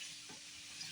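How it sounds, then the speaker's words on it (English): Soft taco fajita meat and vegetables frying in a pan, a steady close, quiet sizzle with a faint stirring scrape partway through. "Let's get this all stirred up, man."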